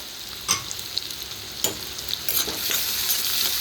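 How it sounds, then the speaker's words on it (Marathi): Onions fry in a pan with a constant close sizzle while a utensil stirs them, several scraping strokes rising above the hiss. "भाजून झाले तर कांदा टाकून घेऊ"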